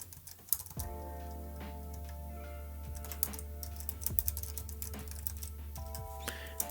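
Fingers type on a computer keyboard with quick, irregular key clicks, up close and fairly quiet, with small pauses between bursts over a low steady hum.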